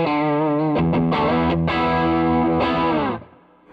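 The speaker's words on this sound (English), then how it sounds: "Bridge pickup sounds like this." Fender American Performer Stratocaster on its bridge pickup, overdriven through a Hot Rod Deluxe amp, plays a few distorted chords and notes loudly, then rings out and fades near the end; no talking.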